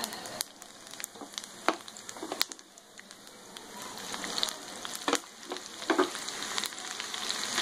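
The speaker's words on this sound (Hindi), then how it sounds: "यहीं पर मैं सारा मसाला जितना भी मैंने ये बघार के लिए रखा है ये मैं डाल देती हूँ इसमें।" Spices for a kadhi tempering fry in hot oil, a faint crackling sizzle with scattered pops and spatters that build toward the end, with a bird chirping faintly in the background.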